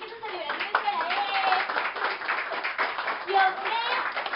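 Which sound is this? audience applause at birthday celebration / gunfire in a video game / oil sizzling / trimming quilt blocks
audience applause at birthday celebration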